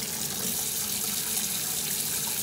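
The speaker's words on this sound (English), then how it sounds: "I had the brilliant idea of having warm water or hot water flowing while I'm pushing it up" Hot water pours steadily from a tap, a continuous close splashing rush with no breaks over the short stretch.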